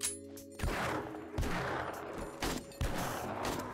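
Gunfire bursts from 7 Days to Die, several sharp volleys of shots spaced about a second apart, punchy and close, with no talk over them.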